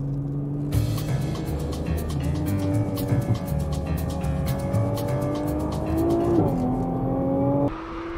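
A limited-production Nissan GT-R T-spec sports car engine hums and rises through gears while driving, steady and close from inside, with a shift in pitch near the end and no talk.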